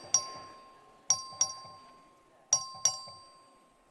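A bell in the Texas House chamber rings for a record vote, struck five times in an irregular pattern, each stroke a bright, clear chime with a short decay.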